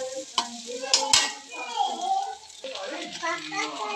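Noodles and egg being stirred in a hot pan with chicken, onion, chili, ginger and garlic, giving a soft sizzle with scraping stir strokes and a few sharp utensil knocks, while a voice is heard faintly in the background.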